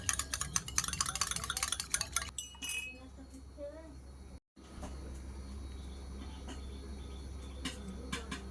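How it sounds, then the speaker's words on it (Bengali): A spoon clinks repeatedly against a vessel while chilled milk is stirred into melted sugar for caramel pudding; quick bright clinks come in bursts early on, then settle into quieter stirring. "দুধটা দিয়ে একটু ভালোভাবে মিশিয়ে নেব"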